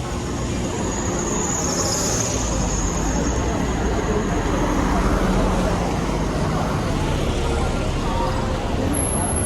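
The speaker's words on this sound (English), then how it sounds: "Quite busy traffic atmosphere now." Evening street traffic outside a shopping center in Yangon, Myanmar, rumbles in a constant dense wash of engines and road noise, with a faint horn-like tone near the start and end.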